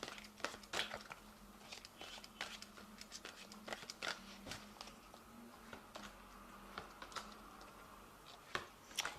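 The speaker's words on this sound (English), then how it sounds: "So I'm going to just draw some cards from the Angel Tarot." Cards from an Angel Tarot deck being drawn and shuffled: repeated crisp flicks, snaps and rustles of card stock in an irregular rhythm, close and fairly quiet.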